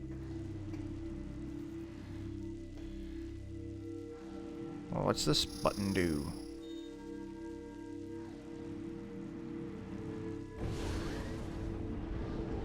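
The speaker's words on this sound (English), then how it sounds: "It's protecting us from the acid rain." Acid rain in Metroid Prime 3: Corruption keeps up a continuous faint hiss under low ambient drones, broken by a brief burst of bright electronic game effects midway and a later rushing swell, with someone talking briefly.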